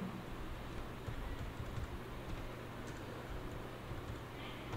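Typing on a computer keyboard: a continuous patter of soft key clicks, fairly faint and steady, set against a dense background hiss and low hum.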